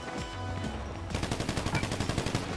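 Rapid automatic gunfire in GTA V Online, a steady burst of repeated shots starting about a second in, loud and close, with some game ambience before it.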